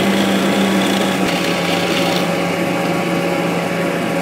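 A power drill boring 4mm holes through the frame panels of a homemade vacuum clamp on a workbench, a steady close high-pitched whine running continuously without pause.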